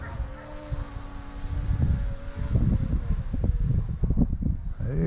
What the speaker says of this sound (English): There's some good winds today.